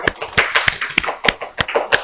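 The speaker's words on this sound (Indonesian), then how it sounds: "Kita beri tepuk tangan sekali lagi dong." A few people clapping in sparse, uneven claps, close and sharp, roughly a dozen hits over two seconds.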